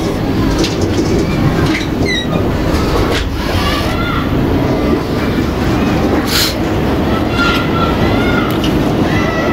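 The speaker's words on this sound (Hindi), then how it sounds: "ट्रेन चल पड़ी थी" Jaffar Express passenger train of Pakistan Railways rolling along, a steady rumble and clatter at close range with a brief squeal and a few birds chirping over the noise.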